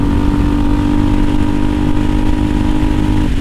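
A 2020 CSC TT-250 dual sport motorcycle with an aftermarket exhaust runs at a steady, throaty idle close by, a continuous rumbling drone with a slight rise at the end.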